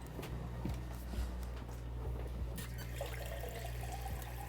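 Water runs from a kitchen tap during a refill, a soft steady trickle with a few light clinks and knocks around it, fairly quiet and close, no talk.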